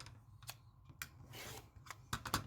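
A fabric strip is cut for quilting with a few quiet, crisp snips and slicing strokes close by, set against faint rustling and no talk.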